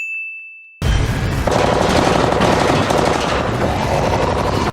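Sustained automatic gunfire from The Walking Dead TV show, a dense, loud barrage of rapid shots that bursts in after a brief tone and keeps going without pause.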